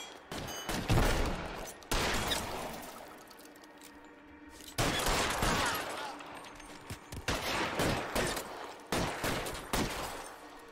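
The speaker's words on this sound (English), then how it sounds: "I just saw my partner shoot this guy" Heavy bursts of gunfire from a police partner in L.A. Noire, several volleys of rapid shots with short pauses between them, loud and reverberant, with faint voices at moments.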